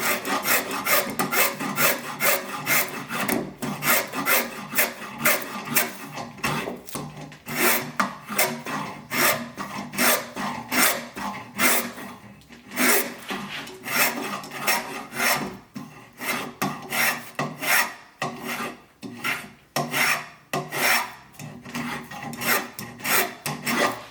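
Fast, rhythmic rasping of a hand tool stripping wood from a traditional Greek pastry-stamp carving, a steady run of dense, close strokes with short pauses between bursts and no talk.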